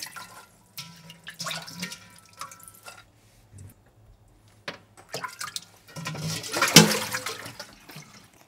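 Rice being washed in water for a Korean vegetable rice bowl, with intermittent splashing, dripping and swishing that builds to a louder burst of sloshing near the end, close up with no talk.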